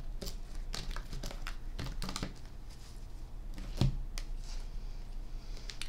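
Tarot cards are shuffled by hand in quick, papery riffles and flicks, a series of soft crisp bursts with one louder tap, quiet and close without speech.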